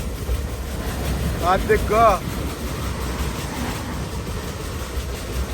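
A MEMU train rushes past on the adjacent track, heard from aboard the moving Circar Express near Gudivada: a steady rumbling roar with a brief tonal horn-like wail in the middle, and a voice speaks briefly over it.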